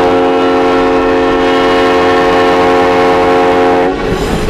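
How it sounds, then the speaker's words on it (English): A train whistle blows a long, loud, sustained blast close by for about four seconds, a rich chord of steady tones that cuts off near the end, with no talk. "We just heard the whistle blow 4 times."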